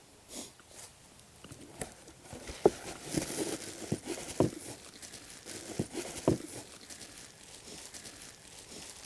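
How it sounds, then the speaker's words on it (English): Soil being dug out to open a planting hole for a tree seedling, heard as a run of irregular crunching, scraping and crumbly impacts close by, with no talking. "I'm opening up the hole for the tree seedling."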